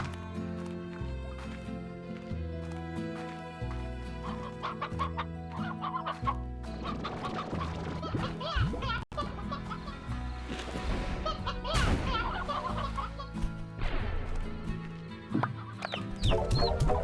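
Chickens in the farming video game Slime Rancher cluck repeatedly in short, busy bursts over steady game music, with occasional quiet talk in the background.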